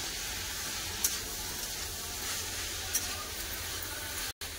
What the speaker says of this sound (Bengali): কপির সাথে মশলাটা ভালো করে কষে নেবো।